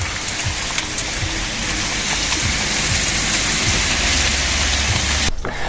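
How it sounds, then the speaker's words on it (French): Steady, heavy rain pours down in a loud, continuous hiss of drops with no voices, then cuts off abruptly just before the end. "il pleut."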